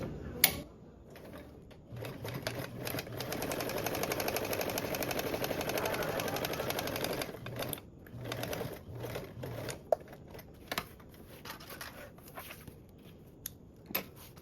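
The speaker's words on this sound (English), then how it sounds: "I'm gonna sew with a 3/8 seam allowance." A sewing machine stitching a 3/8-inch seam on duffle bag panels runs in a steady quiet hum for several seconds, surrounded by faint clicks and handling sounds.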